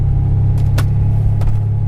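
A steady low engine rumble runs throughout, with a couple of brief clicks on top, like a car idling just after a push-button start, from a cammed 605 hp 2006 Corvette Z06.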